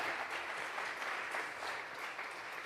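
A church congregation at a Sunday service gives sustained applause as an offering to God, a dense, even wash of many clapping hands that sounds distant and faint.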